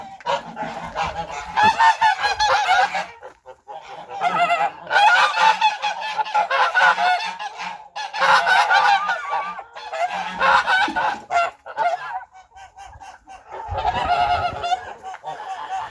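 A flock of geese honks loudly and continuously near a barn in -20 degree frost, many overlapping nasal calls rising and falling in bursts, close by.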